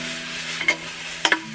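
Mushrooms saute in a heavy, cast-iron-like pan with a steady sizzle, broken by two brief scraping stirs.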